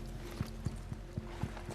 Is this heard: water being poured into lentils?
no